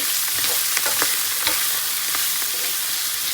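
Shrimp cook with onion and chili in a pan, giving a steady, bright sizzle with soft scraping and stirring clicks throughout, close and alone.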